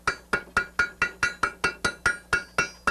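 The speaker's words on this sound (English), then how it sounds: "they pound them together like this." A blacksmith hammers two pieces of metal at welding heat, fluxed with borax, into a forge weld: about a dozen evenly spaced, ringing strikes in quick steady rhythm, loud and close.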